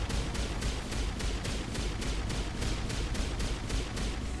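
Rapid automatic fire from an enemy in the Mass Effect video game, a fast, even train of about a dozen sharp shots, moderately loud against a steady rumbling battle background, with no talk over it.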